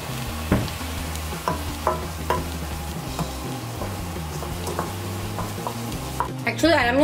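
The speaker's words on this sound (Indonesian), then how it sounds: "Jadi aku masukin aja sekarang ini yang udah disaring. Baru kita oseng-oseng lagi deh sampai dia benar-benar matang." Diced chicken stir-fried in a pan with chili and black pepper, sizzling steadily with repeated scraping stirs of a spatula against the pan, close and fairly loud, with brief voice near the end.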